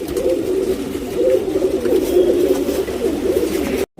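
A male HMT pigeon, a two-year-old breeding bird, coos in a low, steady, close-up rumble that continues nearly unbroken for about four seconds, with no talking.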